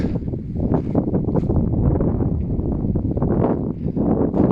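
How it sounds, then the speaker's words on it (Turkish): Steady low rumbling buffet of wind across the microphone in a vineyard, loud and continuous throughout, with no voices. "Biraz rüzgar var"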